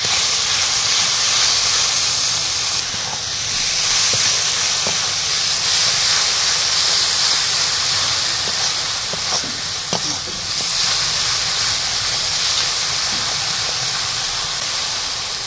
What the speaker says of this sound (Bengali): লবণ দিয়ে ভালো করে কষিয়ে নিচ্ছি এখন।